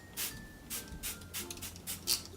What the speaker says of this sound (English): I'm going to use the Smashbox Primer Water. I'm going to set that makeup in place.